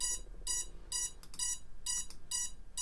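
Beeping from a GEPRC Cinelog 20 FPV drone that won't arm: five loud, evenly spaced electronic beeps, each about a quarter second long, repeat steadily with no talking.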